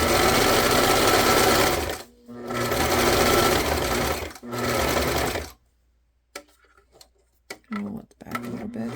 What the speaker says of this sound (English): So let's try sewing it.